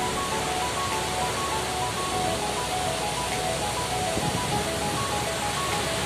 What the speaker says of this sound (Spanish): Esta hermosa cascada aquí en el río Pita.